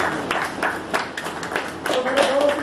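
Applause at a stage reception welcoming a new disciple, a lively crowd clapping in quick irregular bursts, close and moderately loud, with voices talking over it.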